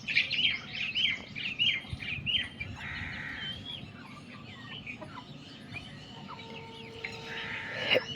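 Shrill chirping from many small chicks fills the space, with scattered clucks and cheeps over a low steady rumble, close and continuous.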